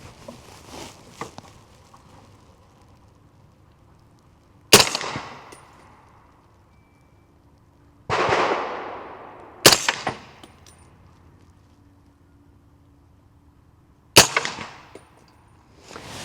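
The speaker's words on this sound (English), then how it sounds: "we'll shoot 3 of these, then we'll shoot 5 of this Fort Scott" Shots fired from an 8.6 Blackout rifle using factory seconds ammunition: four sharp, loud reports spaced several seconds apart, with quieter handling clatter between them.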